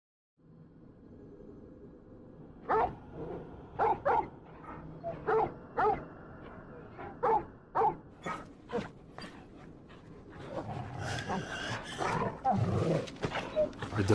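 A dog or wolf in the video game Final Fantasy 16 gives a series of about ten sharp, evenly spaced barks over a low background, followed by a busier stretch of game sound and voices.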